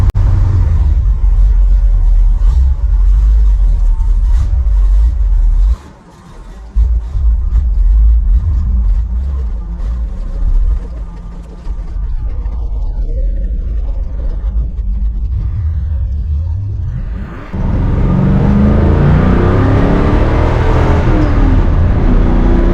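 Inside a 1955 Chevy on the road after new weather stripping was fitted, a loud, steady engine and road rumble fills the cabin, with a brief dip, then the engine revs up hard and surges near the end.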